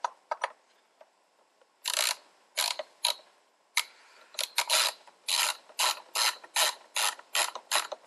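A 13mm ratchet tightening the battery clamp on a Volkswagen Scirocco, with quick repeated bursts of clicking pawl strokes in an irregular rhythm, close up and crisp.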